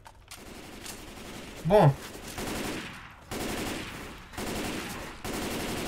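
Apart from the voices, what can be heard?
gunfire in the video game Left 4 Dead 2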